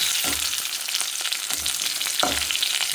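Curry leaves frying in hot oil in a pan for a buttermilk curry, a steady broad sizzle with three low scraping stirs of a spoon, close and fairly loud, no voices.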